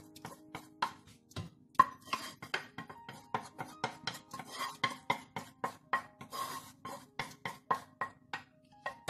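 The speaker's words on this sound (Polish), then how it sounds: "Dobrze pomieszamy." Spoon stirring tomato soup in a pot, a rapid series of sharp scraping clinks repeating in a steady rhythm, close and clear with no voices.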